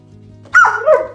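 A dog gives a single bark on command, loud and close, breaking into a second yelping rise before trailing off, with a steady low hum underneath.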